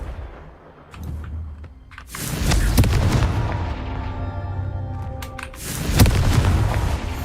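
A Confringo explosive spell in Hogwarts Legacy bursts with a loud boom near two seconds, a sustained fiery rumble follows, and a second blast hits around six seconds, with no talking.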